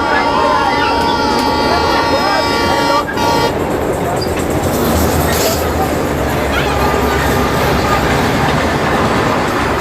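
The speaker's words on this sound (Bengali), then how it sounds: "ছেড়ে দিল ট্রেন, চলে যাবে কোন গন্তব্যে জানা নেই" A train pulls away from a station platform with a loud, steady close rumble throughout and sustained horn tones sounding during the first few seconds.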